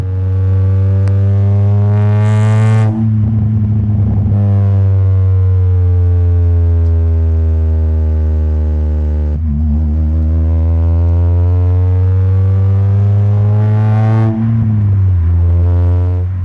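A car is driven on city streets, its engine droning loudly and steadily with clear pitch sweeps as it accelerates and shifts, road noise underneath and no talking.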